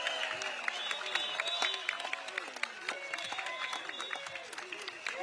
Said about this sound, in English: Can we have one more round of applause for Bock, as well as our candidates standing for the election?